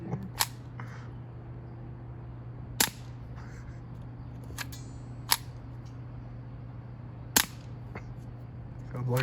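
Several sparse, sharp pops from a suppressed Ruger 10/22 Charger .22LR pistol, about five shots spaced a couple of seconds apart over a steady low hum, each crack brief and fairly quiet.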